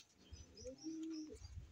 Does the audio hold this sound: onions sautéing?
no